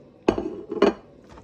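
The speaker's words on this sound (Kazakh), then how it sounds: "Енді пекинская капустаның жапырақтарын тураймыз." Two sharp knife chops strike a cutting board about half a second apart as Chinese cabbage leaves are cut, followed by a faint third tap, with no talking.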